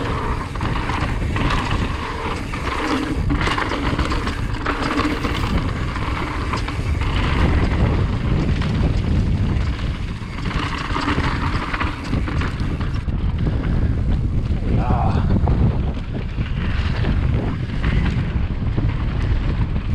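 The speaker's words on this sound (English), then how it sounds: "A little windy all of a sudden." Strong wind buffets the microphone throughout, a constant low rumbling roar with gusts swelling and easing, no voices present.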